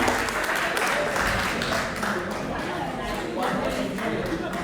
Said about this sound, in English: Please give a round of applause for this beautiful lady.